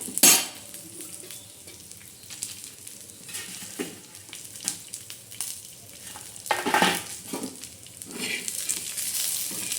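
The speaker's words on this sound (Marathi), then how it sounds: "हा काळा मसाला चांगला असा भाजायचा आहे लाल मिरच्या आणि भा लाल काळा मसाला" Black masala with red chillies roasting in a pan, a soft continuous dry sizzle broken by occasional louder scrapes and stirs of a spatula against the pan, close up.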